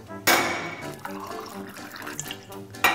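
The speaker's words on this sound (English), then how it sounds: "Come on, pour it." Tea being poured at a school challenge, a splashing liquid stream that starts abruptly, runs unevenly with gurgles and surges, then splashes again at the end, moderately close.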